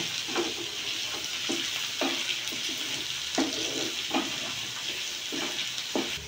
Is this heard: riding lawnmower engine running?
no